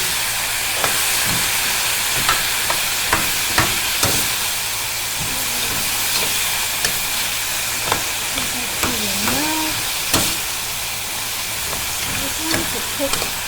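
Whole diced tomatoes hit a hot pan for a Spanish-style tomato sauce, giving a steady broad sizzling hiss under intermittent clicks and utensil taps, with a voice speaking at moments.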